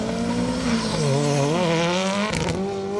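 Rally car at speed on a special stage, Menai Stages in Wales: a loud, close engine note climbing and shifting in pitch as it passes, with a brief sharp burst near the end and no talking.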